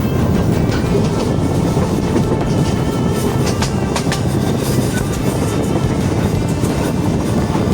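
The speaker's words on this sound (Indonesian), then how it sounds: "Kereta api Serayu pun melintasinya tanpa banyak suara" The Serayu passenger train rumbles past close by, with steady roaring wheel noise and faint clattering over the rails throughout, no voices.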